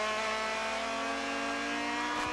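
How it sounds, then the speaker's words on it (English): A Mazda race car at Circuit of the Americas holds a steady, loud, tonal engine drone at racing speed, and the pitch drops sharply at the very end as it downshifts, with no talking. "Big downshift."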